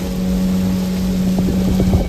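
A motorboat travels on the Amazon river in Ecuador, its engine a steady, loud, droning hum with wind and water rush around it.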